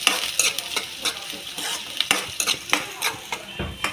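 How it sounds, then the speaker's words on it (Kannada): Chopped onions frying in a little oil in a pan for pasta, a steady sizzle broken by repeated sharp scrapes and clacks of a spatula stirring against the metal. "ಇವನ್ನ ಸ್ವಲ್ಪ ಫ್ರೈ ಮಾಡಬೇಕು."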